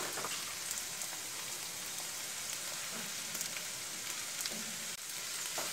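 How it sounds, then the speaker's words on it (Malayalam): Green chillies, chopped ginger and garlic fry in oil for a garlic pickle, a steady fine crackling sizzle like light rain, fairly quiet and unbroken, with no speech. "നമ്മുടെ പച്ചമുളകും അതേപോലെ തന്നെ ഇഞ്ചി അരിഞ്ഞതും ഇതിലേക്ക് ചേർത്ത് കൊടുക്കാം"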